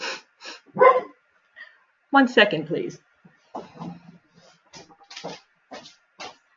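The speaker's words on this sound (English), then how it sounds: "That's my dog in the background." A dog barks and yips a few times in the background while a person talks over it.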